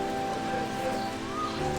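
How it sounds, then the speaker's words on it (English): Light rain falls outside a hotel as a steady soft hiss, blended with a low constant hum in the background. "turns out that it is raining a little bit"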